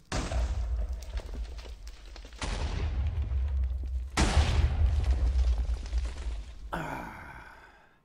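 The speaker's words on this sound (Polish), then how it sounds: "Eksplozja się skumulowała." Explosive oil detonates in the video game Minecraft with the Better Than Wolves mod, giving loud, rumbling blasts that swell in three waves and then fade, with no talking.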